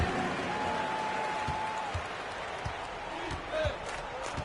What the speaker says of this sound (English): let's give a big round of applause to your Lakers youth dance team